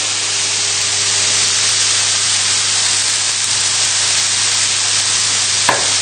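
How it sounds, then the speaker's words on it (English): Mushrooms frying in a pan give off a steady, dense sizzle as they are stirred, with a single scrape near the end. "Now just give your mushrooms a good stir now, just moving them around."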